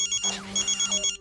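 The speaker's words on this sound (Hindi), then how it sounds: "फोन उठा यारो, प्रेम का कॉल है।" A phone ringtone chimes in quick, even electronic pulses, loud and close, for an incoming call.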